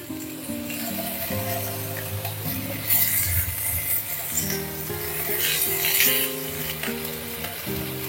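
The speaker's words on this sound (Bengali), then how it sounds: "আদাটা দিয়ে 2 মিনিট নেড়ে নিলাম।" Ginger paste sizzling steadily in hot oil in a pan while it is stirred, with soft scraping strokes under the continuous frying hiss, close and fairly quiet, with faint background tones.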